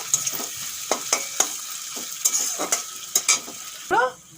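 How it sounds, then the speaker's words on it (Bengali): Onions sizzling in hot oil with whole garam masala for egg biryani, a steady fry hiss broken by sharp scrapes and clinks of a spatula stirring in the pan, ending with a brief metallic knock. "কেটে রাখা পেঁয়াজ দিয়ে দেব পেঁয়াজগুলো খুব সুন্দর করে ভেজে নেব"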